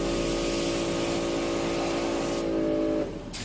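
A Samsung SM7 car engine idles close by with a steady, even hum that holds level for about three seconds, then drops off suddenly near the end.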